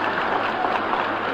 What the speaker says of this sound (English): you thoroughly deserve that wonderful ovation you're getting from the crowd at the Lyric Theatre